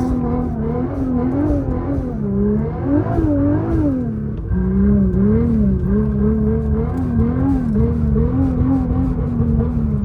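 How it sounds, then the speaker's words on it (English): A Nissan R35 GT-R driving on sticky snow gives a loud, close engine drone that rises and falls as it revs through gear changes, with no voices. "Marco always wanted to drive with a GTR, so tonight we're gonna find out."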